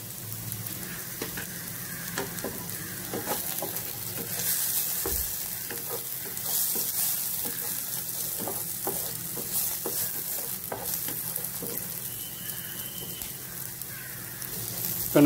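Broad beans and curry leaves frying in a pan, a steady loud sizzle throughout with repeated stirring scrapes and ladle taps at an uneven rhythm, close up and without speech.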